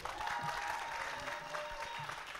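An audience claps in a steady, fairly faint burst of applause at a live Kyrgyz song performance, sustained for a couple of seconds.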